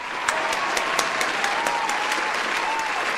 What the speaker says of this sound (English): We gotta clap it up for Ty Lue.